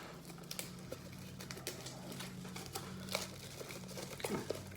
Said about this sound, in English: This plastic has been on this thing for a long time.